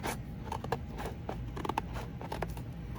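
Scissors cut through a multi-layered piece of cardboard, giving quiet close-up snips and scraping crunches in an uneven, irregular rhythm for a few seconds.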